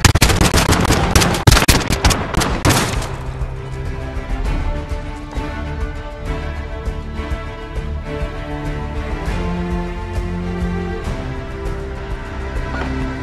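Video game gunfire in Call of Duty: Warzone combat training: a loud, rapid burst of automatic shots at first, then continued scattered gunfire and rattling clatter layered over a steady game soundscape.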